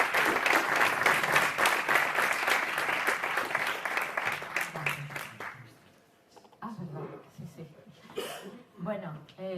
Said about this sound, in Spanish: Si os pediría quizás pues un aplauso fuerte